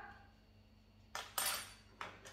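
Freshly made waffles cut with metal cutlery on a plate, three bright clinking and scraping strokes close up after a quiet stretch, with no voices.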